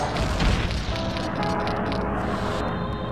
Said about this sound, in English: I didn't mean to throw that bomb!